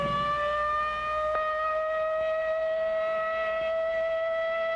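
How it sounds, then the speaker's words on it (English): A civil defense air raid siren wails steadily and loudly, holding a sustained rising-then-level tone with strong harmonics throughout, heard alone without voices. "But tomorrow, this siren may mean the real thing."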